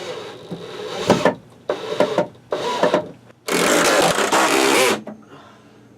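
Bursts of a power screwdriver driving screws to fasten a shelf bracket down in a basement: three short whirring runs, then a longer sustained one, close and fairly loud with quiet gaps between.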